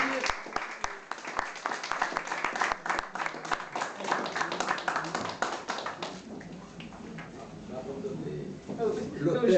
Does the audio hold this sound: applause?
yes